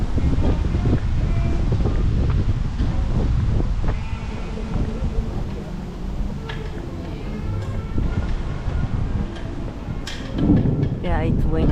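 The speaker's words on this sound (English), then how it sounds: "it's windy" Strong wind gusts outdoors at Disney's Yacht Club Resort, buffeting the microphone with loud, low roaring rumbles that rise and ease throughout, ending with a brief higher sound.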